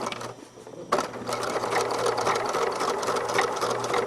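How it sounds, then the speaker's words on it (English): A sewing machine runs steadily as it back stitches bound seam tape along an edge and through to a garment piece. A brief pause comes near the start, then a continuous close mechanical whir and rapid stitching patter. "I'm sewing right along that edge, and I'm sewing it right through to the garment piece"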